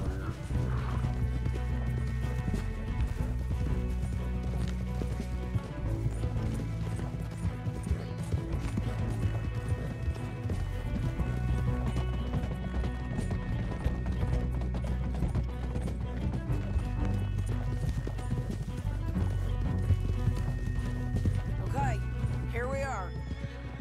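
Steady hoofbeats of horses clip-clop continuously at a gallop in the video game Red Dead Redemption 2, with mechanical clatter and a brief whinny near the end.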